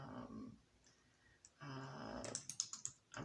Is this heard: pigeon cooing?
no